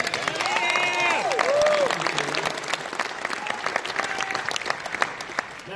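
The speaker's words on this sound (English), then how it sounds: "So a little round of applause." Audience applause at a live MotorTrend auction-coverage event, steady and loud for about two seconds, then thinning into scattered claps with a few voices and whoops mixed in early on.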